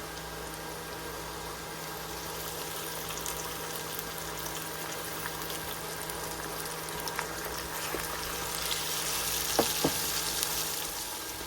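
A spice paste fries with browned onions for a mustard hilsa dish, a steady close sizzle and bubbling that swells slightly near the end, with a couple of brief utensil clinks and no talking.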